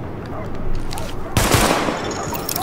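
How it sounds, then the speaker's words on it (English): Pistol shots in the shooter game The Division, a sharp loud report that cuts in partway through, followed by a short echoing tail over steady game ambience. "you switch to your pistol by double tapping triangle. Alright, let's just shoot this thing over here."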